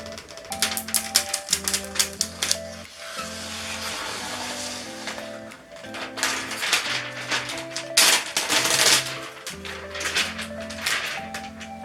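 Clicky keys on a Zyrex Sky 232 laptop keyboard clatter in rapid, uneven bursts of typing, close and fairly loud, over a steady layered musical tone in the background.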